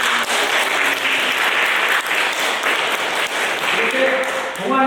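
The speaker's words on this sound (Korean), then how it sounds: "환영의 박수." A church congregation at an Easter service breaks into warm welcoming applause, loud and continuous. Faint voices sound beneath the clapping.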